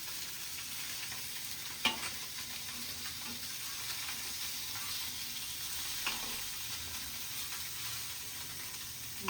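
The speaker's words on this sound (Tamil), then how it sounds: "மீன் பாருங்கள் ஃப்ரெண்ட்ஸ், நல்லா ஃப்ரை ஆகிடுச்சு." Fish frying in a pan sizzles in a steady, moderately loud wash, with two brief sharper crackles standing out, and no voices.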